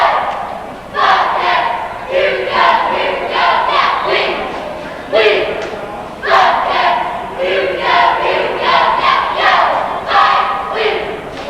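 A high school varsity cheerleading squad at a boys' basketball game chants in loud rhythmic shouted bursts, with claps and stomps punctuating each line, repeating several times in a reverberant gym.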